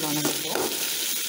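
Chopped onions sautéing in hot oil with dried red chillies, green chillies and curry leaves for a chickpea curry, a short burst of steady sizzling hiss with a voice briefly audible at the start.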